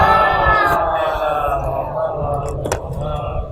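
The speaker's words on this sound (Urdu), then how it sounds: "ایک اور نعرے صلوات پڑھ لیں." A mosque gathering at ImamBada Jannat Maab in Lucknow answers with a loud, massed chant of voices, sustained and echoing, slowly fading through the stretch with a brief sharp knock near the end.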